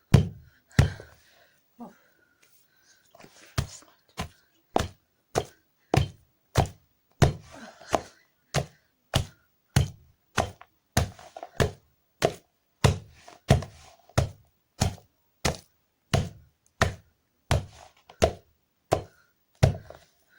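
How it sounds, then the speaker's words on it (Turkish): Rhythmic, regular thuds of meat being pounded with a mallet for Turkish tokmak köfte meatballs, around two dozen firm strikes at a steady pace, close and distinct, with brief quiet between. "iyice dövmeye devam ediyoruz."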